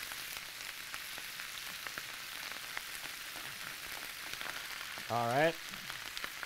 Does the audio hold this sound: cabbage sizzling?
yes